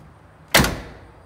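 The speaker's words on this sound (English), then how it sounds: "Door closes pretty well." The door of a 1977 Chevy Camaro V8 swings shut with a single solid, close thud and a short decaying rattle, alone against a quiet background.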